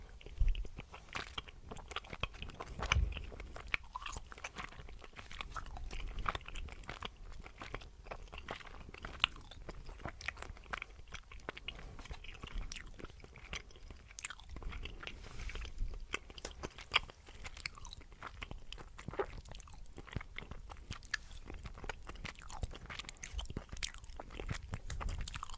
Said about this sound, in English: so I'll have a yellow wine gum and continue